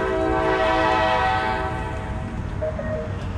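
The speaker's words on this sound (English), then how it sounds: "Here the train has to beep its horn all the time because it's going over grade crossings." A train horn blares in a long, steady blast for grade crossings over a rumbling New Jersey commuter train, then fades as the engine noise carries on.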